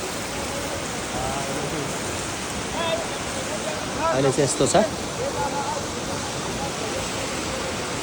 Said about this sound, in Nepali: यस्तो छ ल साथीहरू झर्ना, सुरसिङ झर्ना